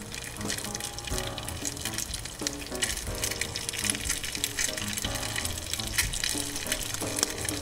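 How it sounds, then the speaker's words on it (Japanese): Food frying in a pan with sesame oil poured over it while camping outdoors, a steady loud crackling sizzle with some scraping, continuous throughout. "ごま油をこんな感じでかけます"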